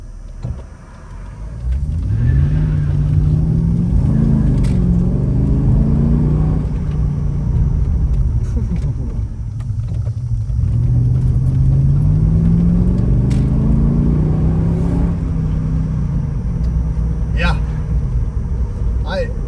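A V8 AMG Mercedes engine rumbles steadily while driving on a road test, rising and falling in pitch as it accelerates and shifts, with a few faint clicks over the road noise.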